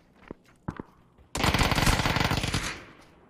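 A sustained automatic burst of gunfire in the video game PUBG on night Erangel, loud and close, lasting over a second and preceded by a few sharp single shots, with no talking.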